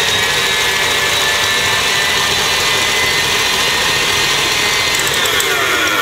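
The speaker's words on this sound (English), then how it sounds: "we'll put it on to whisk for a few minutes" An electric mixer whisks eggs for a chocolate mousse cake with a steady, loud, unbroken motor whine that holds an even pitch throughout.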